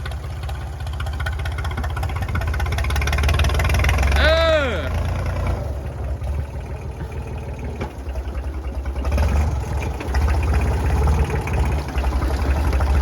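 A Kubota L2601 farm tractor engine revs with a steady low throb at a household tractor handover in Nong Khai, pressed harder in bursts while voices shout and talk over it throughout.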